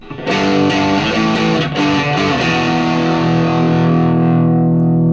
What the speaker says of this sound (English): Let's say I had some distortion on like this.